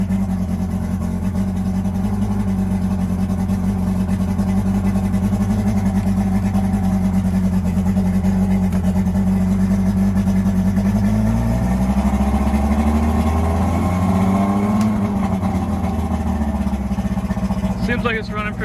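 A boat engine idles in gear with a steady low rumble that shifts slightly in pitch near the end, while a person talks over it.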